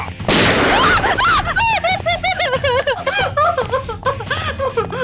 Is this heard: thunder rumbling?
no